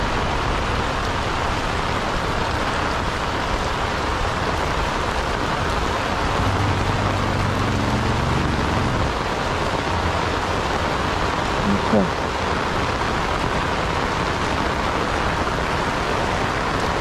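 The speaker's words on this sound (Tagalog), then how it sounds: "ang lakas na naman ng ulan" Heavy rain pours down outdoors, a dense, even roar of hiss that stays loud and unbroken from start to finish, with a faint low rumble underneath.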